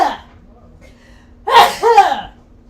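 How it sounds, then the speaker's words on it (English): A single loud sneeze bursts out near the microphone after a quiet pause, preceded by a short vocal sound, from someone reacting to a very gingery ginger ale. "So I'm gonna sneeze."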